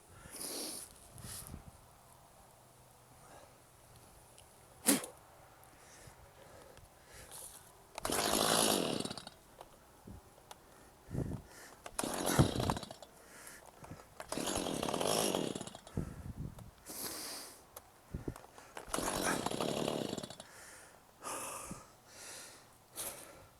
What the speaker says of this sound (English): than dealing with a chainsaw that won't stay running